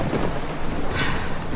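Heavy rain pours steadily and densely, with a low rumble of thunder rolling underneath and a brighter crackle swelling briefly midway, no voices present.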